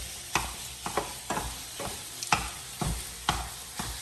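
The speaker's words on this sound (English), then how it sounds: "I just came in here to stir it up" A spoon scrapes through browned ground beef sizzling in a pan, about eight distinct stirring strokes in a steady rhythm over soft frying hiss, close by.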